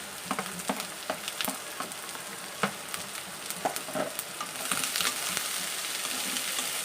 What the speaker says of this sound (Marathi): कांदा आपल्याला व्यवस्थित भाजून घ्यायचा आहे